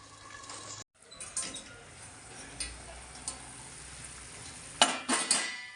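A metal plate clatters as it is set over a pan of cooking green chilli kharda, a few close clinks and knocks near the end over a steady soft sizzle.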